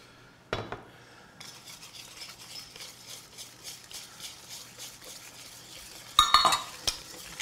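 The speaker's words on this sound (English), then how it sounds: "We're going to whisk this up." A whisk clatters rhythmically against a bowl while eggs and milk are beaten into Swedish oven pancake batter, producing a fast, close, steady series of tapping strokes after a louder opening knock, with sharper clinks near the end.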